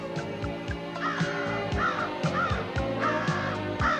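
A pet crow caws loudly and close by, giving a series of harsh, evenly spaced calls over a few seconds with clicks and knocks between them.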